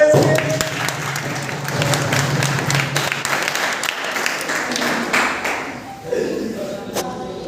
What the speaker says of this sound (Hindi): अरे ताली बजा दो इसके